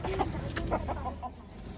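A broody white turkey sitting on her eggs gives a run of close, throaty clucks, short repeated calls in quick succession with no talking.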